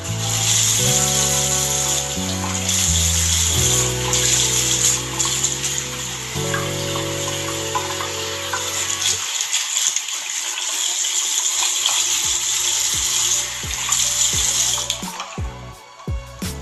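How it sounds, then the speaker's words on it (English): Running water from a tap wets a section of hair in a steady, close, fairly loud rush. A tonal musical backing plays under it for the first half, and the water continues alone after that. "let's imagine that my hair is wet. I'm about to wet my hair."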